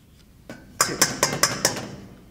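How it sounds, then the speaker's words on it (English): Fork clinking against a glass bowl while mixing ingredients, five sharp close taps in an uneven rhythm, preceded by a few faint knocks. "And now we proceed to mix with the fork."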